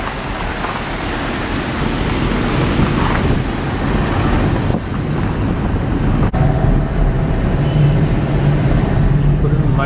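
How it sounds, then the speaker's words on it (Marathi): River water flowing near Naneghat and Bhandardara, a broad steady rush of running water mixed with wind buffeting the microphone, loud and continuous throughout. "मस्त पण आता मध्ये असं नदी पाणी वाहते मस्त इथं."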